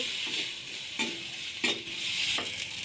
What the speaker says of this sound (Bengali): হাফ চামচ হলুদ গুঁড়ো হাফ চামচ জিরে গুঁড়ো হাফ চামচ লঙ্কার গুঁড়ো দিয়ে ভালো করে নেড়ে নেব